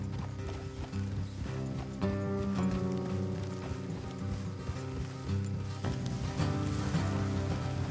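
Horse hooves clip-clop in a steady rhythm at moderate distance in Red Dead Redemption 2, mixed with background game ambience and faint mechanical sounds.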